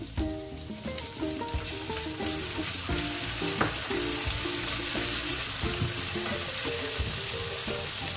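Chopped tomato drops into hot oil with lightly fried onion, sizzling and crackling steadily with occasional stirring clinks of a utensil against the pan.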